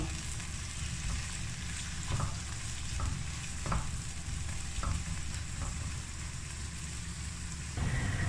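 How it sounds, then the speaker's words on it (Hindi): Steady sizzling of onions frying in hot oil for a pumpkin dish, with occasional scraping stirs against the pan; continuous and close, no speech. "प्याज ये देखिए हल्का हल्का सा फ्राई होना स्टार्ट हो चुका है"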